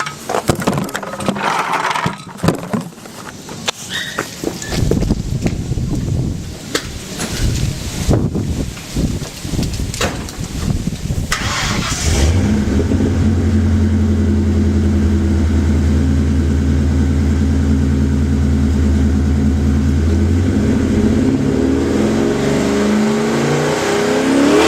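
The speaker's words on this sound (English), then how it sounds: "let's fire it up and hear what it sounds like. This is from behind the car" Mercedes engine heard from behind the car: knocks and handling noises, then the engine cranks and starts around the midpoint and settles into a loud, steady, deep exhaust drone with slight revving.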